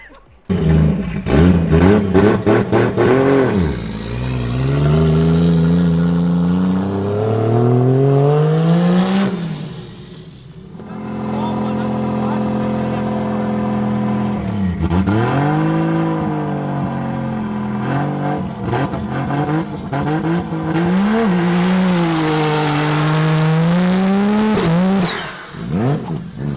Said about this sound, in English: So I felt confident enough to do a quick burnout